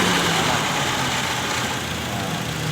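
A Toyota 2TR engine with automatic transmission, just serviced with a new valve cover, oil and oil filter, runs at a steady idle, with a constant even hum and a low droning tone close by.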